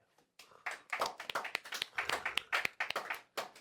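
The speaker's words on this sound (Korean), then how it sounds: "박수 한번 쳐주세요" Students clap their hands in a classroom, a short burst of sharp, uneven claps lasting a few seconds, fairly close and quiet, with no talk over it.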